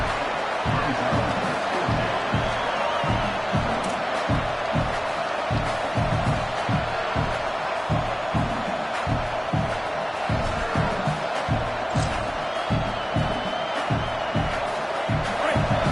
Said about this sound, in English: Fourth down, and this crowd trying to help this defense rise to the occasion.